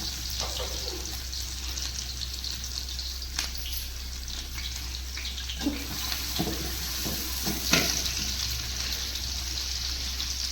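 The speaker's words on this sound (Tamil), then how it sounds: "எண்ணெய் காஞ்சிருச்சு வெங்காயம் போட்டுக்கலாம் வெங்காயம் நல்லா நிறமாக வதங்குற வரைக்கும் வதக்கணும்" Sliced onions fry in hot oil and ghee with a steady, hissing sizzle. Faint clinks and stirring taps come through now and then, with no one talking.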